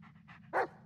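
A dog's quick breathy panting sounds at close range in the Blair Witch video game, with soft rhythmic pants and one louder breath.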